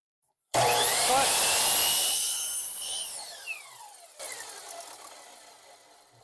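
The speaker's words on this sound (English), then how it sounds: "Let the blade stop when you are cutting these smaller pieces" A power saw blade cuts through a small wooden piece for a cutting board riser, starting with an abrupt loud whine and bite into the wood, then spinning down over several seconds with some light clatter at the end.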